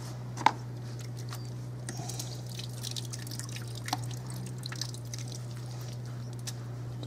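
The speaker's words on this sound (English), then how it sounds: "just squeezing out some of the excess water before it goes into the carton" Water drips and patters quietly as wet paper pulp is squeezed by hand for paper log briquettes, scattered small drops over a steady low hum, with no voices.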